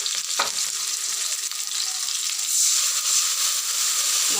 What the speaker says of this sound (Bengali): টমেটোর মশলা একসাথে ভাজা হবে